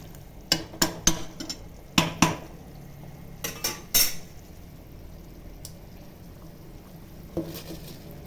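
Rice goes into a pot of cooked chicken for Kongu Nadu Coimbatore-style biryani, marked by several sharp metallic clanks and scrapes of utensils against the pot in uneven clusters over a quiet background, near and without talking.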